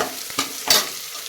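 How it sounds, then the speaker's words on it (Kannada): Spices with kasuri methi are stirred in a frying pan for ghee rice: two or three quick, close scraping strokes over a light sizzle. "ಈಗ ಇದಕ್ಕೆ ಕಸೂರಿ ಮೇಥಿ ಸ್ವಲ್ಪ, ಅದನ್ನು ಕೂಡ ಸೇರಿಸ್ತಾ ಇದ್ದೀನಿ. ಎಲ್ಲವನ್ನು ಈಗ ಮಿಕ್ಸ್ ಮಾಡ್ತಾ ಇದ್ದೀನಿ."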